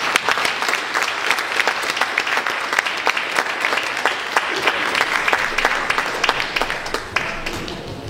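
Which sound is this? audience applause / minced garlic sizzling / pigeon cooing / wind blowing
audience applause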